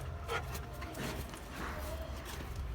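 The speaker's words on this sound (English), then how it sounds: "Whoa, that was a little interruption from my dog." A pet dog gives a few soft yips and whimpering barks indoors, faint against a steady low background hum.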